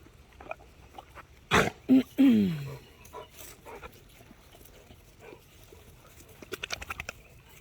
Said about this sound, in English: he is like the loudest dog